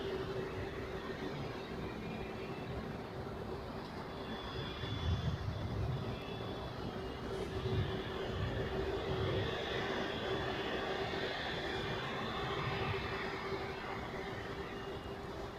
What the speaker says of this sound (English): Next on the runway, British Airways